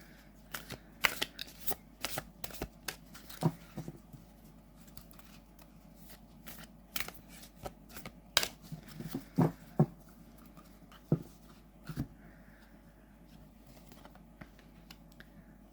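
A deck of Hare's Odyssey oracle cards being shuffled, with quiet, close riffling bursts and soft card snaps scattered irregularly over a hushed background.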